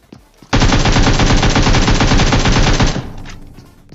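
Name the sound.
gunfire in the video game PUBG Mobile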